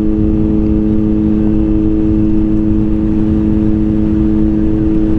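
A Kawasaki ZH2 big bike cruising on the road, a loud steady engine drone with constant pitch and wind rush throughout.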